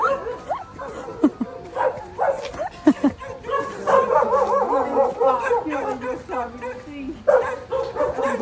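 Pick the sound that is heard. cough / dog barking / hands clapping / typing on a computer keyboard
dog barking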